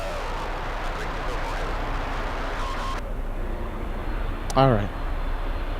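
A large airliner on landing approach to runway 9 at Miami airport, a steady broad roar of engine noise throughout under a short spoken word and a brief radio voice.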